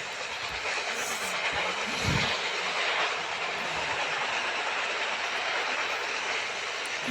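A train in an Indian railway simulator video game runs steadily, with a continuous rumble and broad hiss and some faint rhythmic clatter underneath. No voices are heard.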